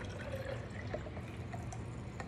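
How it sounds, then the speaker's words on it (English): Warm water poured from a tap into a plastic water bottle, a steady close gurgling fill with light splashy drips and no speech. "I'm gonna fill the rest of this water bottle with some warm water."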